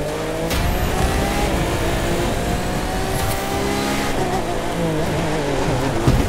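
A racing car in The Crew 2 revs hard and swerves, its engine roaring loudly and continuously with shifting pitch and a brief tire squeal near the end.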